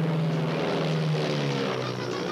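Propeller plane in flight, its steady engine drone and airscrew hum loud and close throughout, with no voices.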